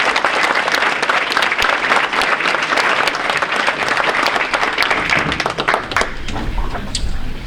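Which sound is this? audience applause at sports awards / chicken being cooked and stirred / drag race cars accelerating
audience applause at sports awards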